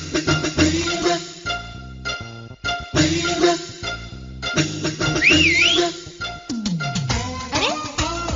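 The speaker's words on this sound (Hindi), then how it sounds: "अरे ये सीटी किसने बजाई?" A man whistles a lively, wavering tune over busy film music and effects, rising and falling in pitch several times, moderately loud and mixed into the soundtrack.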